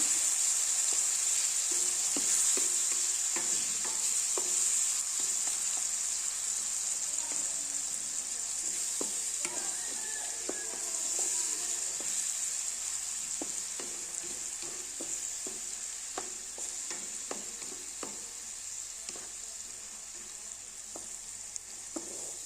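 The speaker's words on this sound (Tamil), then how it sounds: "இப்போ இதை நல்லா மிக்ஸ் பண்ணி வச்சுக்கலாம்" Pickle mixture with garlic paste and tamarind stirred in a hot pan, a steady sizzle under repeated scraping and stirring strokes, close and fairly loud throughout, gradually easing a little toward the end.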